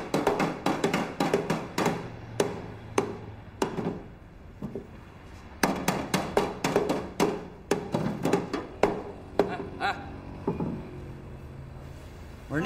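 A small hammer taps repeatedly on a hard surface, with irregular bursts of sharp knocks, some clustered and some spaced out, close and clear with no talk.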